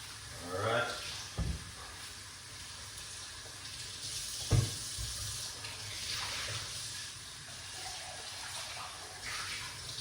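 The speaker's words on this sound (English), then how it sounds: "Let's wash off these fruits." Running tap water washes fruits in a kitchen: a steady rush of splashing water continues throughout, broken by a couple of sharp knocks and soft clatter close by.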